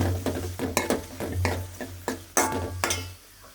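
Beaten egg stirred and fried in an aluminium pan: repeated scraping strokes of a spoon against the pan over a continuous low sizzle, close and fairly loud, with no talk.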